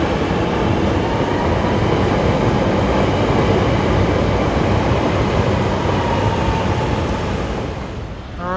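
A CTA elevated train rumbles past in the rain, a loud continuous roar of wheels and cars on the track that eases off near the end, with a faint squeal of wheels as it moves away.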